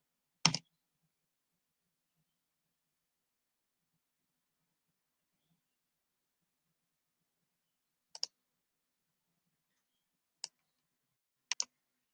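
Computer mouse clicks while working in an online circuit simulator: one sharp click near the start, then after a long silence a few short, crisp clicks spaced out near the end, faint and isolated.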